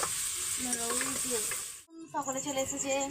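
Onions fry in a pan at an outdoor picnic with a steady, dense sizzle. Voices carry on in the background and the frying briefly cuts out before resuming.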